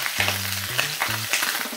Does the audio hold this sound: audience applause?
no